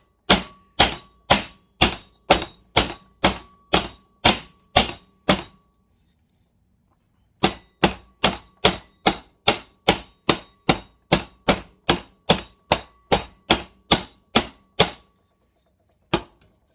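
Steady hammer blows setting rivets into a metal handguard plate for a Suzuki GSF 1200 Bandit motorcycle, a run of about eleven evenly spaced ringing clangs, a short pause, then about fourteen more and one final strike, close and loud.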